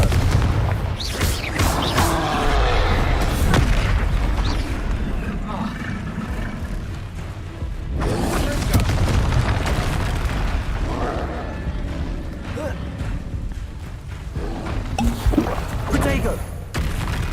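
Confringo blast spells exploding during a Hogwarts Legacy battle, several loud booms and bursts layered over dense game effects, music and a voice calling out spells.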